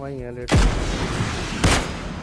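A single loud gunshot fired for a headshot in PUBG Lite, a sharp broadband crack that cuts off a voice at the start, followed by a second shot about a second later.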